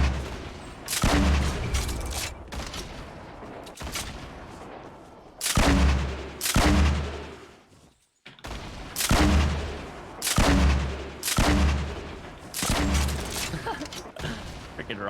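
Rocket blasts from Fortnite boom in heavy, irregular bursts, several hard detonations with rumbling decay and a short silent gap partway through, mixed with game noise and occasional players talking.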